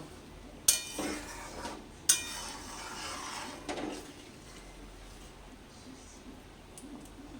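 Fried cauliflower is turned through sweet pulao in a pot with a couple of sharp utensil knocks against the rim, then softer scraping, close by over a low background murmur.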